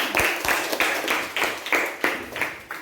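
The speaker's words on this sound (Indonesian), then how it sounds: "Iya, pintar, tepuk tangan" Children in an Indonesian classroom clap for a classmate who has shared a good deed, a bright rhythmic run of about eight handclaps in quick succession, close and fairly loud with no talk over it.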